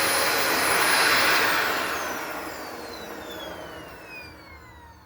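A Dyson vacuum cleaner on a brief test run, its high motor whine loud at first and then winding down as it is switched off, with no one talking.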